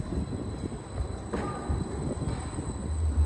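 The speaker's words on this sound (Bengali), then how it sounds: "এই যে ট্রাম আসছে" A modern tram rolls along an Edinburgh street, a steady low rumble of wheels on rail with faint mechanical whine, moderately close amid general city background noise.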